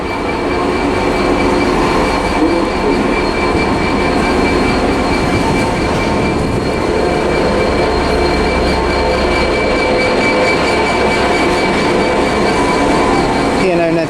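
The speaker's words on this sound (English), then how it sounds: "slowly making its way through now is a Freightliner Class 66, which is 66532" Freightliner Class 66 freight locomotive passing slowly, a loud continuous rumble of engine and wagons with faint wheel squeal and rail clatter, steady and close for the whole stretch.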